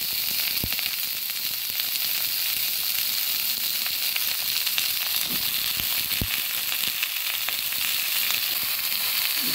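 Eggplant pieces fry in hot oil with a loud, constant, close sizzle, broken by a few sharp crackles and occasional stirring clinks, and no talking.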